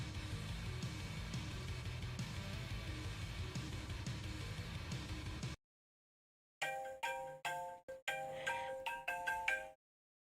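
A phone ringtone plays loudly for about five seconds, stops briefly, then returns as a choppier run of bright melodic tones before cutting off.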